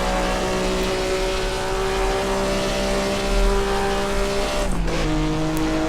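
Maserati 250F engine in the Assetto Corsa racing game at Monza, a loud steady engine drone that drops in pitch with a sharp blip during a heel-and-toe downshift near the end.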